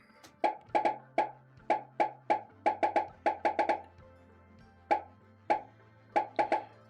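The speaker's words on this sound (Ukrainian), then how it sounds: "Ну, ви її чуєте, відтворюється звук поп." A rapid series of bright pops, many in quick clusters with short gaps, loud and close over a low steady hum.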